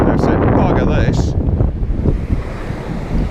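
A strong gust of wind buffets the microphone on an open seashore where sea trout are being fished, a loud continuous roar with surf beneath it; faint voices surface briefly.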